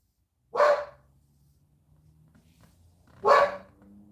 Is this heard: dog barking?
yes